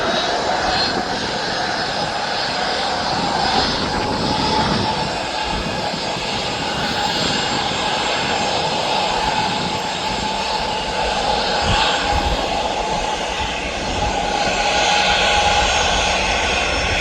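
Airliner on the Tenerife wet-lease flight at Birmingham Airport, a steady loud jet engine roar passing close by for the whole stretch, with no talking.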